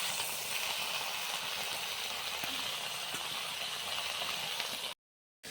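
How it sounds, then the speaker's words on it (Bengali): Taro leaves (kochu shak) with salt and turmeric cooking under a lid, a faint steady sizzling, bubbling hiss with a couple of soft knocks, ending abruptly in brief silence. "এখন এই কচু শাকটাকে সেদ্ধ করে নেব"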